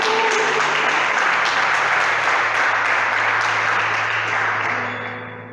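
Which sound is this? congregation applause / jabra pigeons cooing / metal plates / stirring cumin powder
congregation applause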